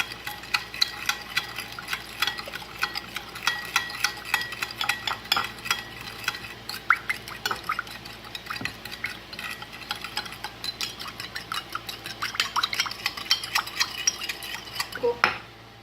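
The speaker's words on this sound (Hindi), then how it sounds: "इसमें 1 टीस्पून शुगर का जाएगा। इसको अच्छी तरीके से मिक्स कर लेंगे।" A spoon stirs sugar into a black pepper mushroom sauce in a pan, with rapid metallic clinks and scrapes over a low simmering sizzle, close and continuous.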